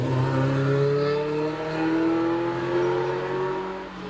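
Lotus Elise S1 with a 1.8 litre engine, racing up the Prescott hill climb, heard nearby as a steady, loud engine note that rises and holds through rev changes for several seconds.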